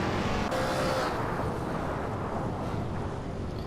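Racing car engine from a Hot Wheels video game roars as a steady, fairly quiet broadband drone for a few seconds, with no talking.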